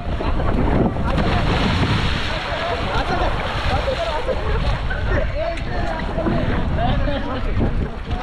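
River rafting on the Kali River at Dandeli, with constant loud rushing water and wind buffeting the microphone. Voices shout and talk throughout over the churning flow.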